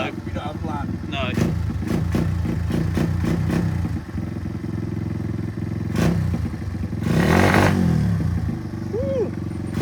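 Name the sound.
motorcycle engine running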